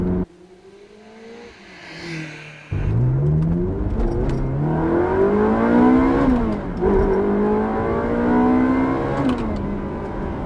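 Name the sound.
mid-engine Italian manual sports car engine revving toward redline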